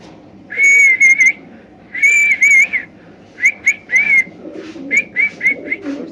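Club racing pigeons of Budapest, Pakistani and Damascene breeds give a series of short, clear whistling calls in repeated bursts, close by over a low background hum.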